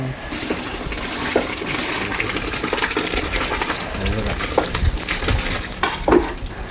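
Soaked rice poured into a pot of cooking vegetables, a steady dense patter of grains with scattered clinks and splashes, close and continuous.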